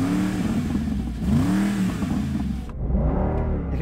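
Supercar engine revving hard in a side-by-side sound comparison among a Mercedes SLR McLaren, Ferrari GTC4 and Aston Martin DBS, with loud rising and falling sweeps that are close and sustained, with no talk.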